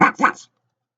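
A dog gives two quick barks, close and fairly loud, followed by a short trailing yelp, then silence.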